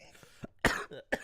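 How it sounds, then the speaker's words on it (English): A few sharp coughs burst out close to the mic, the last two loudest, with brief throat sounds between them. "if you hear me randomly cough"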